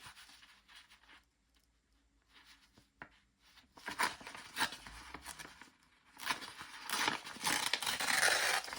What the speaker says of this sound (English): I like that sound of tearing paper.